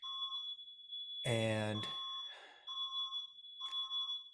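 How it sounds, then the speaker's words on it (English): Smoke alarms in a house sound off with steady high-pitched electronic tones that keep ringing throughout, partly masked by someone talking in the foreground. "That is the smoke alarms going off at the house"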